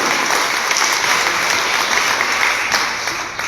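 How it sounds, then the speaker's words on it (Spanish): A church congregation claps loudly and continuously, a thick, close wall of applause that holds strong and dips only slightly at the very end. "Denle un fuerte aplauso a Dios."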